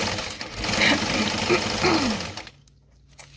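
Sewing machine sewing the side seams of a garment at a 3.5 stitch length, a close, loud continuous motor whir for about two and a half seconds that then stops, leaving quiet room hum.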